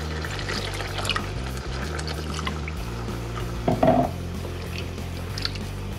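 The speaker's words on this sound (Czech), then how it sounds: "Já vývar nemám, takže šupnu trochu vody." Water poured from a container into a pan of spicy Mexican-style pork neck, a brief splashing pour near the middle of the stretch over steady kitchen background noise, with no talk.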